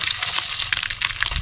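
Perch fillets fry in hot oil, giving a bright crackling sizzle with quick irregular pops, close and fairly quiet, with no talking.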